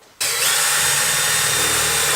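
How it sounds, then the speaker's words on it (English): A power drill whirs up suddenly and runs steadily at full speed, loud and close, in a garage workshop during car wiring work on a 2JZ engine build. "Get my drill."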